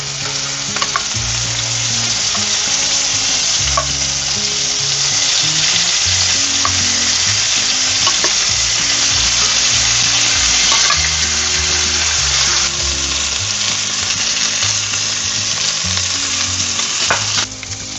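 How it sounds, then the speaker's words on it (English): Beef pieces searing in a pan with olive oil for a beef stew, a loud, dense, unbroken sizzle up close with faint low clatter from the pan throughout. "And sear the remaining pieces."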